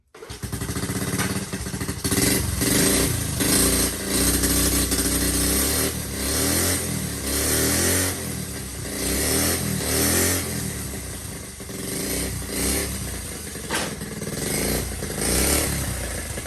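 A flamed Honda Z50K2 minibike's small engine sputters to life and runs steadily, revving up and down repeatedly in loud close bursts with an uneven buzzing idle between pulls.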